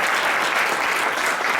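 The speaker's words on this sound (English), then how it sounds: "Let's give them a round of applause" An audience at a fall registration briefing gives the presenters a round of applause, a brief burst of dense, steady clapping throughout.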